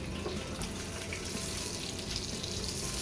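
An eggplant omelette, tortang talong, fries in a pan with a dense, even sizzle. The sizzle sounds hissy and watery, runs continuously at low volume, and there is no talking.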